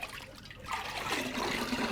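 Water drains and trickles out of a turkey lifted from its liquid, a quiet splashing pour that grows steadier after a short pause.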